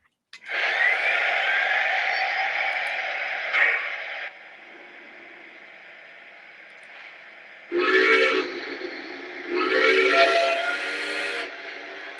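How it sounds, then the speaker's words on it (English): A model train's steam whistle blows in several blasts: one long sustained toot, a pause with faint hum, then two more shorter loud blasts close by. "It has one of my favorite whistles of all the engines that I have in this fleet."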